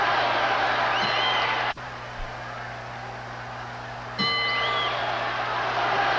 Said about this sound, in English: That is the bell for round 11